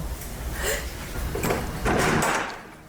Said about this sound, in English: Why is that door so loud?